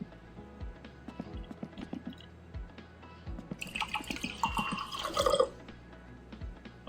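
Water drips and trickles while coffee is made in the video game My Winter Car, scattered soft drops joined midway by a brief, brighter pouring splash.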